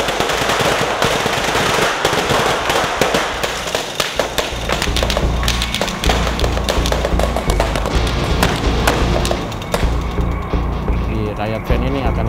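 Rapid bursts of special-effects gunfire raking the front of a riot van on a film set, loud dense cracks and thumps stacked close together for the whole stretch with little pause.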